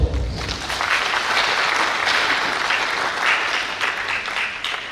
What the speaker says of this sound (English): The university deserves a round of applause.